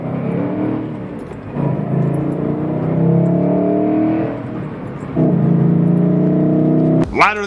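A manual sports car's exhaust revving up and settling in two rising bursts, a strong harmonic engine tone close by, ending with a sharp short sound.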